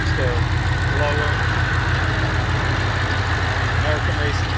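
A 2007 Shelby GT500 sits idling with American Racing headers and a Magnaflow exhaust, giving a steady, close low rumble throughout while someone talks over it.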